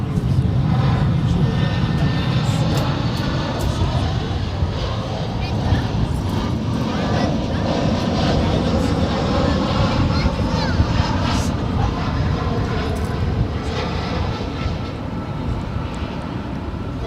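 An American Airlines Airbus A320 jet arriving at Dallas-Fort Worth makes a loud, steady engine roar that rumbles for the whole stretch, with people talking under it.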